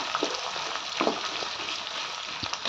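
Chopped onions fry in a pan for a mutton and potato curry, a steady close sizzle with faint stirring scrapes and no talk.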